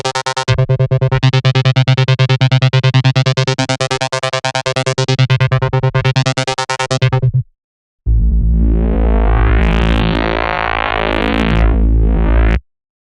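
A granular synthesizer patch in Phase Plant, for psytrance sound design, plays a dense buzzing tone for about seven seconds, breaks off in brief silence, then returns brighter and more distorted; loud throughout with no voices.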